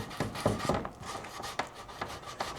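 Repeated rough rasping strokes of sandpaper on wood, close up, in an uneven rhythm with no talking, while restoring a Plycraft Eames-style lounge chair.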